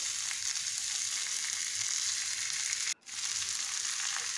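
Bheda fish going into fried new potatoes in a hot pan: loud, steady close sizzling and crackling oil, broken by a brief silence before the frying resumes just as strongly.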